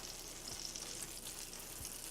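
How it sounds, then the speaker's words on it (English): Crab cakes sizzle in a frying pan, a steady close hiss of hot oil with faint pops and a couple of soft low knocks, no voices present. "It is sizzling fast."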